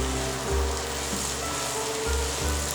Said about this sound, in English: And we're going to saute these for about 8 minutes.